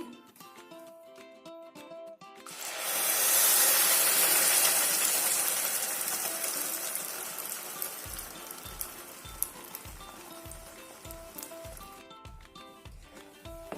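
Ripe banana paste dropped into a spoonful of hot ghee for banana barfi, bursting into a loud hiss and sizzle that slowly eases, with a steady rhythmic stirring or tapping later on.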